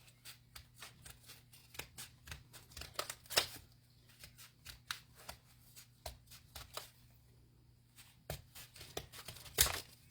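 Scissors snip through paper while a pattern like a snowflake is cut along a drawn line, giving a quiet, irregular run of short crisp cuts and rustles, with a few louder snaps and no talking.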